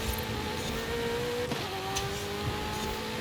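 A Ferrari race car in Forza Horizon 5 drones at a steady, fairly quiet engine note, holding an even pitch with only slight rises, heard alone without talk.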